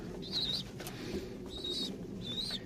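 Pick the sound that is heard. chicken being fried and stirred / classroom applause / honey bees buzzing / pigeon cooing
pigeon cooing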